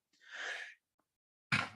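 A person sneezing: a breathy intake followed after a pause by a sharp burst, close and alone, with no speech.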